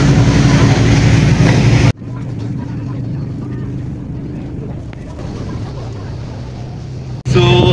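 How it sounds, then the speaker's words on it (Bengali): Tour boat engine rumbling steadily as the boat pulls away toward Coral Island off Pattaya, Thailand, with wind buffeting the microphone; a loud wind-and-water burst opens and closes the stretch. "বোটটা এই মাত্রই ছাড়লো আমাদের।"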